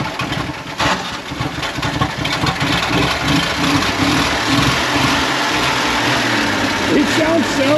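Old boat truck engine idling roughly, a loud continuous rumble with uneven pulsing throughout, close by, with a voice speaking over it.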